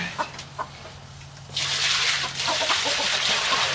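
Backyard hens cluck softly in a coop after laying a brown egg, their calls scattered over a steady low hum, then joined by a broad rushing noise like wind or water for the second half.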